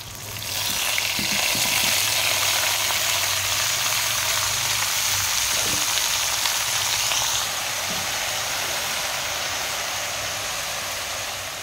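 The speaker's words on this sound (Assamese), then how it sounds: "তেল গৰম হৈছে ইতিমধ্যে এতিয়া মই লাহেকৈ যোগ কৰিম চেংমৰা কেইটামান নহৰু দিছোঁ তেলত" Chengmora leaves and garlic hit hot oil in a pan and fry with a loud, continuous sizzle that swells at the start and holds steady, easing slightly toward the end, with no talking.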